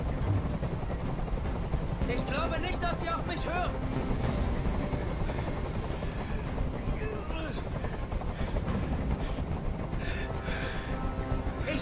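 A helicopter in the video game Detroit: Become Human gives a constant rotor roar and rumble that fills the whole stretch, with someone speaking German over it.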